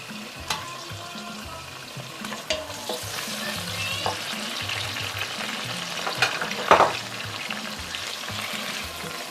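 Steamed meat and a steamed turkey wing fry with onion in a pot for a Ghanaian nkontomire stew, giving a steady close sizzle broken by scraping stirs and a few sharper clatters, with no talking.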